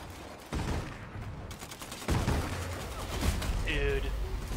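Gunfire in a battle royale video game comes as dense rattling bursts, one starting about half a second in and a heavier stretch from two seconds on, loud and close, with a small electronic tone near the end.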